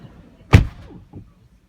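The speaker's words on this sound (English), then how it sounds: "shutting the door on the Model 3" A 2018 Tesla Model 3 door shuts with one solid, close thud, followed by a faint secondary knock, with no talking.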